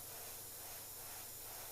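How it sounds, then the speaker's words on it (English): An airbrush sprays paint in a steady, soft, continuous hiss, faint and unbroken, with no talking. "I'll use that to hold it down as I spray."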